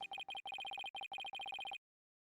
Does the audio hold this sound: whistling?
no